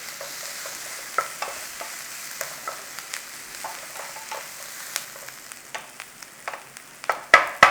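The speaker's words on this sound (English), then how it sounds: "you've had a couple of minutes on your onions, you've taken out the rawness" Onions fry and get stirred in a pan, a steady soft sizzle with repeated spoon scrapes and clinks coming close and fairly clear, louder clatter near the end; no one speaks.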